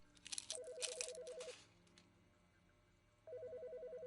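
A telephone ringing in the Autopsy Simulator video game, two bursts of steady electronic trilling separated by a pause, following a louder rustle at the start.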